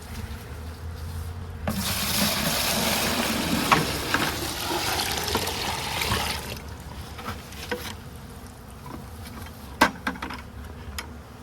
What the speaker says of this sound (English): I'll try decanting from bucket to bucket.